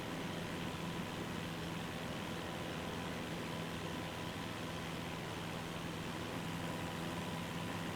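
Aircraft engine on skis during a snowy takeoff in Microsoft Flight Simulator, a steady droning roar with a constant low tone that holds evenly throughout, no voices over it.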